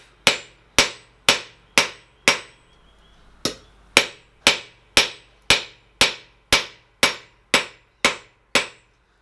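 A blacksmith's hammer strikes hot iron handle rings on an anvil, about seventeen sharp ringing blows in a steady rhythm with one brief pause near the start, each clang decaying quickly, close and loud with no talk.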